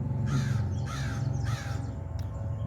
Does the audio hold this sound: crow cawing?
yes